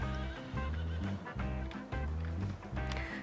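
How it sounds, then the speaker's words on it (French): Horses neigh and whinny repeatedly over rhythmic hoof clip-clops on a pasture in the video game Farming Simulator 19, loud and close with no talking. "On a des chevaux."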